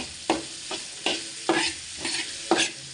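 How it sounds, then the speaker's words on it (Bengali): Onion and shrimp frying together in a hot pan with a steady sizzle, broken by a spatula stirring and scraping about every half second, close and with no talk. "এখন এই সবগুলো একসাথে একটু ভাজবো।"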